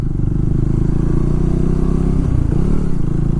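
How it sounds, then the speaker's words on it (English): Triumph Tracker 400 motorcycle on a test ride, its single-cylinder engine giving a loud, close, continuous thumpy drone with a brief change in pitch near the end. "it gives you that thumpy engine, the character that it has continued for decades"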